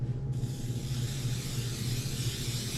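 Cooking spray hisses steadily from a can onto small baking pans for cookie prep, one continuous close, loud spray lasting almost three seconds, with no talking.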